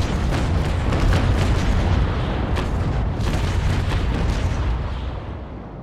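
Heavy rumbling booms of ship broadside cannon fire roll together in a naval video game, loud and sustained before fading away, with no voices.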